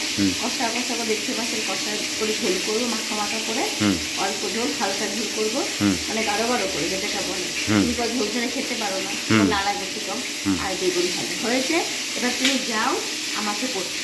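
Spices sizzle and spit steadily in a hot pan, a continuous close frying hiss with people talking over it throughout.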